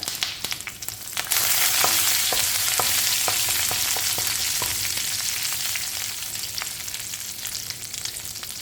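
Mustard seeds, urad dal, red chilli and curry leaves fry in coconut oil with a broad, steady hiss that swells after the first second, dotted with sharp pops and crackles.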